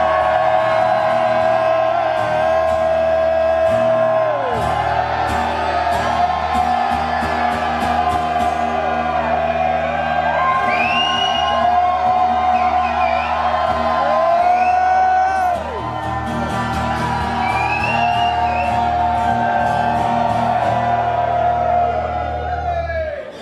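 A large crowd at a live metal festival concert screams, whoops and cheers loudly and continuously, with amplified stage sound and a shouting voice mixed in over sustained roaring noise.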